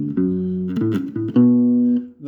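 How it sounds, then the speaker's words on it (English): A slowed-down 1950s–60s style rock and roll walking bass line on bass guitar, from the verse of a song. A few sustained, clean low notes change in steps, alone and moderately quiet. "Now this is a typical sort of 50s, 60s sort of rock and roll bass line as well."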